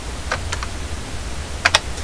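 A computer keyboard being typed on during 3D modeling work in Blender, with a few sparse, crisp key clicks early and a sharp pair of louder taps near the end over a low background hum.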